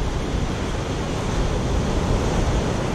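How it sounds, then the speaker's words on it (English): Wind blows steadily at about 10 mph across New Smyrna Beach during surf fishing in rough surf, making a dense, constant roar and rumble of gusting air and breaking waves buffeting the microphone, loud and unbroken. "Wind's still blowing about 10 miles an hour."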